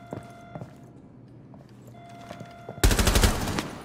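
Gunfire from the Rainbow Six Siege video game, a loud burst of rapid automatic shots near the end after quieter game ambience with a few faint shots and footsteps.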